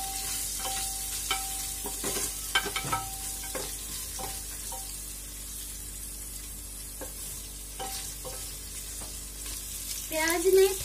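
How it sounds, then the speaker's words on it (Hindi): Onions fry with a steady sizzle in a pan while a spoon stirs and scrapes them in irregular knocks and clinks throughout, with a louder scrape near the end. "प्याज को हल्का पिंक होने तक फ्राई करेंगे।"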